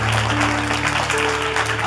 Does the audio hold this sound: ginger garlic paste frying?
no